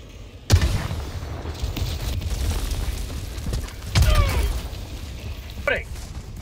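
Grenade blast in the Helldivers II shooter game, a sharp boom followed by a rumbling burst amid continuous battle noise, with a second loud hit and some crackling debris afterward.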